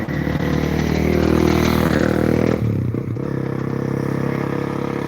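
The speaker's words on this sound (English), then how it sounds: "sorry about that, loud motorbike cruising by." A loud motorbike cruises past beside a lake in Thailand, its engine roar steady and close for about two and a half seconds before dropping away abruptly and continuing as a lower rumble.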